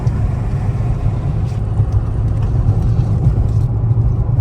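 A 2014 Ford Taurus on its first drive after new front struts, with a steady, close engine and road rumble that holds evenly throughout, with no talking.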